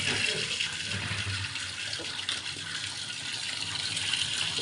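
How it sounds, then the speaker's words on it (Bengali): Kitchen tap running steadily into a sink, a continuous even hiss of flowing water at close range with no pauses. "কলটা খুলে দিতে হবে, কারণ খুব গরম তো"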